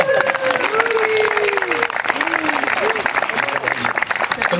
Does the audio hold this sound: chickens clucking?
no